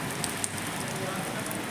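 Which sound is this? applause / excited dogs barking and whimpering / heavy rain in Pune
heavy rain in Pune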